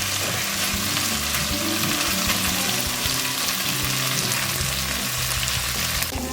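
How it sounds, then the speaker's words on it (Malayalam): Prawns for a Kozhikode-style roast frying dry in a pan, giving a dense, even sizzle with faint stirring, close and steady throughout without speech. "ചെമ്മീൻ വറുത്ത് ഡ്രൈ ആയിട്ട് വരുന്നുണ്ട്."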